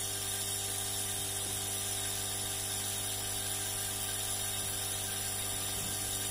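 A large 5 kW FH4525Y piston air compressor runs steadily and smoothly close by, a continuous mechanical drone with an even rapid rattle and no talking.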